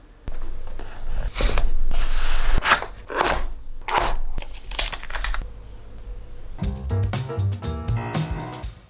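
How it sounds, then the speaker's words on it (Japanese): Packaging for a Google Pixel Watch 4 is opened close up, with crinkling, rubbing and scraping of cardboard and film, followed by a run of quick, light plastic clicks and taps. "そんなわけで早速開封していきます。"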